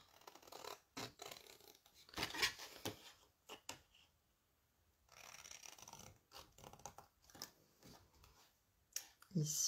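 Scissors snipping a diagonal off paper while making a box, several close, quiet cutting and rustling sounds in short bursts with pauses between.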